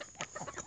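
An Orpington hen with mahogany plumage clucks several times in quick succession, close and fairly soft.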